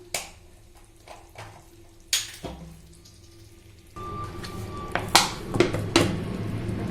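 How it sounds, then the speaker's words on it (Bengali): A little water goes into a cooking pot of potato curry (alur dom) after a few light clinks of utensils against metal, followed by a steady, soft, rain-like splash and sizzle with more scattered clatters. "জল দিয়ে দিচ্ছি, অল্পই দেবো, বেশি দেবো না।"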